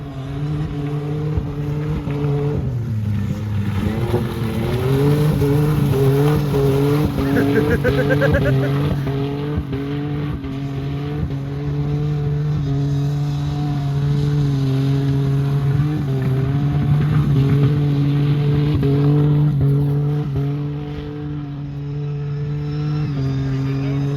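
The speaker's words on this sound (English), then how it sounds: "That's a nice drifting corner." Car engine droning and revving at steady high pitch, rising and falling as it slides through a turn, with voices talking over it.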